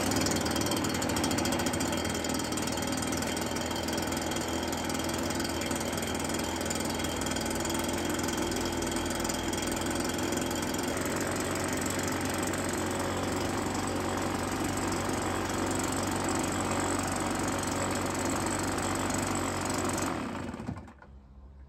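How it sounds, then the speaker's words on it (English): A small two-stroke engine running on Husqvarna XP Plus oil holds a loud, steady, buzzing drone with rattling mechanical texture close by for about twenty seconds, then cuts off abruptly at the end. "Now we have the Husqvarna XP Plus. Let's start it up and do the 5 minute run time"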